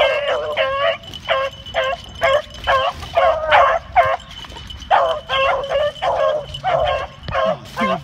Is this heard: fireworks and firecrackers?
no